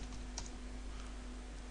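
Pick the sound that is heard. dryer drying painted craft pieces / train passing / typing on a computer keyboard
typing on a computer keyboard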